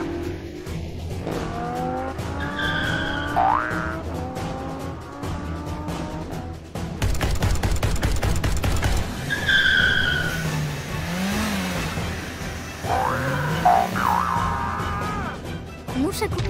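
Cars race and skid in a video game, engines droning with repeated tire squeals and a loud stretch of heavy revving midway, while game music and voices carry on throughout.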